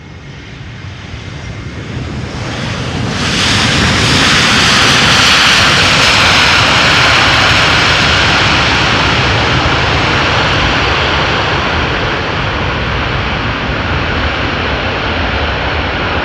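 A heavy jet airliner passes loudly at Amsterdam Schiphol Airport, engine roar swelling sharply after a few seconds into a sustained close, powerful rumble and whine that slowly eases while staying strong, with no voices.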